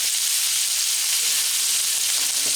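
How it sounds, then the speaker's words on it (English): Pork tenderloin pieces sauté over medium-high heat in a crowded pan, giving off a steady, loud, close sizzle with fine crackling throughout and no voices. "We're just going to saute these and brown these for a little bit on both sides."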